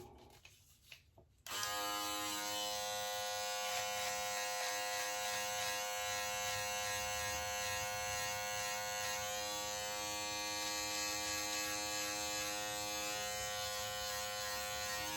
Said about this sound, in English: Let's try the precision trimmer.